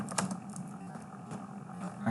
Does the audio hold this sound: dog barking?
no